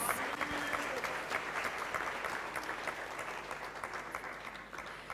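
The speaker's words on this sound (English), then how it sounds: "Let's give her another round of applause." A crowd claps steadily and warmly, a dense sustained round of applause that tapers slightly toward the end.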